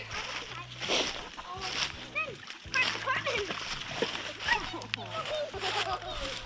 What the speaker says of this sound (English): See, the creek is flowing.